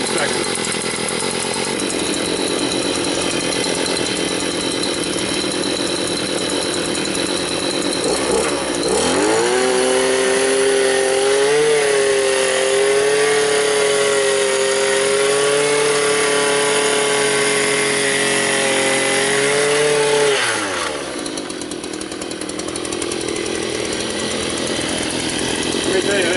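A Harbor Freight Predator gas auger engine drills into a sand floor, a buzzing small-engine drone that climbs into a loud, strained, wavering whine for about ten seconds before settling back to a rough idle.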